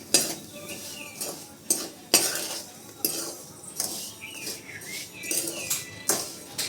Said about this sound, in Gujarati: એને મીઠું ભેગું નાખી દેવાનું એમાં એ આકડી થઈ જાય છૂટું પડી જાય બધું ને હવે હલાવવા માંડીએ આપણે